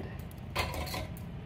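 A metal frying pan set down on a home kitchen stove to heat ghee for roasting ragi flour, giving one clear clatter and scrape near the middle against low kitchen room noise.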